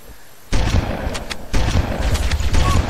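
Shotgun blasts in the Halo CE video game: a loud burst after a quiet start, a second close blast a second later, then dense, rumbling gunfire and explosions.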